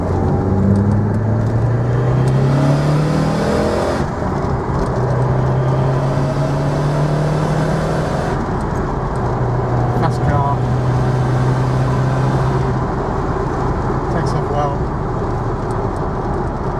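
A 1991 Lancia Delta HF Integrale 16V 4WD Evolution pulls in second gear, its engine note climbing steadily in repeated rising sweeps with gear changes, loud and close throughout with road noise underneath.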